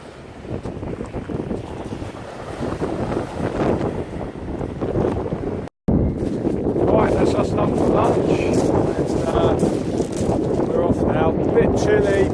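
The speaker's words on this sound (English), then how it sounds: "bit windy, sorry about the winds" Strong wind buffets and roars across the microphone almost continuously on a beach at Eastbourne, with a brief dropout midway, then gusting on loudly.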